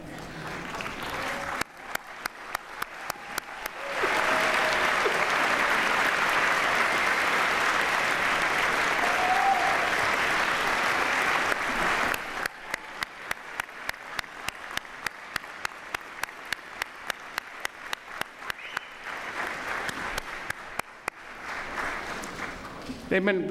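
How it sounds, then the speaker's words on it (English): Graduates at a 2008 business school commencement ceremony applaud the guests behind them. A few sparse, rhythmic claps build into a full sustained ovation, drop back to scattered rhythmic clapping, then swell again. "give everybody behind you a round of applause"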